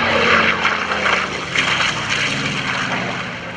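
An F4U Corsair propeller fighter roars past at a World War II air show weekend, a loud, steady engine drone that swells slightly and then fades, heard alone without voices.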